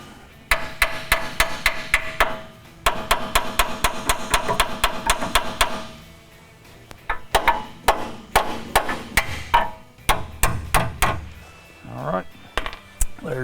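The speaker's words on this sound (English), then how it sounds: "just take your hammer and go ahead and knock that side out" A hammer strikes metal again and again while knocking out a sway bar end link on a Dodge Cummins truck: sharp, close clanging blows in quick bursts, pausing briefly before another irregular run of hits.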